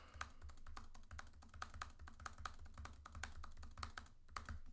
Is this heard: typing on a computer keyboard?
yes